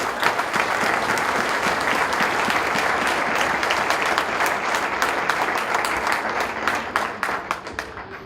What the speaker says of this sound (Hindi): जोरदार तालियां खुदावंद के यीशु नाम।